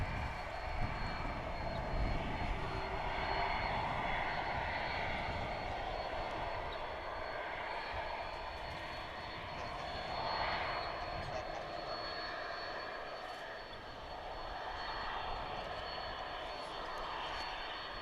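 A UPS Boeing 767 jet rumbles at a large international airport, a steady, loud engine roar that swells and fades slightly over the stretch as the aircraft moves, with no talking.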